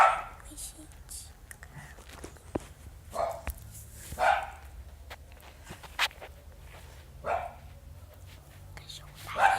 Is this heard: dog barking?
yes